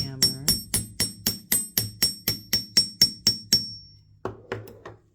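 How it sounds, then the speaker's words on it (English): Chasing hammer tapping round jewelry wire for a wire-wrapped pendant frame: about thirteen light, evenly spaced metallic taps with short ringing decay, then a brief pause and three more taps, close and clear with no talk. "I'm just going to tap it lightly with my chasing hammer"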